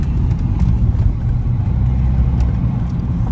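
A stage 2 tuned BMW 120d with an open differential on a town drive, its engine a steady low rumble with mild swells of throttle, close and continuous, with no talk.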